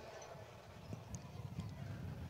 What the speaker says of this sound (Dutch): Paarden zijn gestart voor de Steaerskoers